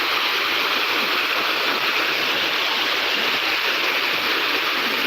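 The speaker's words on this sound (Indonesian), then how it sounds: "kakak Ancu Bahtiar, melihat kondisi air jalan poros Sopeng Wajo" Floodwater rushes across the main road between Soppeng and Wajo in South Sulawesi, a constant loud broadband roar of flowing water with no pauses, heard close.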